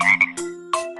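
A cartoon frog croaks in a Kiddopia kids learning game, a few short bright ribbiting croaks in quick succession, clear and close with no talk.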